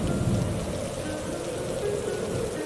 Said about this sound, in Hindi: इतनी ठंडी है, तेज हवाएं भी चल रही है, बिजली भी कड़क रही है